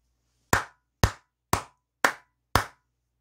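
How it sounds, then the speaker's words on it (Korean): Five sharp hand claps ring out alone, loud and close, evenly spaced about half a second apart, each cut short with a crisp attack and quick decay. "크게 박수 한번 치고 가도록 하겠습니다"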